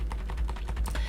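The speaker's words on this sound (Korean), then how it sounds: "키보드 위아래 방향키를 이용하시면 돼요" Keyboard arrow keys pressed repeatedly while a shape's corner rounding is adjusted in illustration software, giving about a dozen soft, evenly spaced clicks in quick succession, close and fairly quiet, with no voices.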